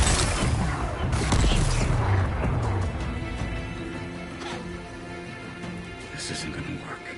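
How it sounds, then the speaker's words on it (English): Rock-blasting explosions in the video game Horizon Forbidden West: a loud booming burst that rumbles and slowly decays, with crackling debris under a voice. "Gotta blast away some rocks, so I can expose the power cell."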